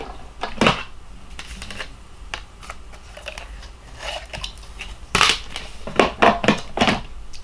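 A paper piece for a slimline card being cut, heard as a series of sharp close crunching snips and clicks in irregular bursts.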